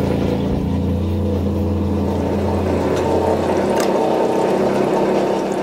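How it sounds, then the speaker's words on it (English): Water dumped down a funnel into a diaphragm shower sump pump aboard a Catalina 42 sailboat, a steady continuous rushing pour over a low mechanical hum, loud and close throughout with no talk. "now I'm going to turn it on, and Karen's going to dump water down the funnel"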